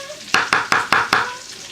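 Onions are tossed into a pan with bacon in five quick, evenly spaced scraping stirs, close and fairly loud, over a faint background sizzle.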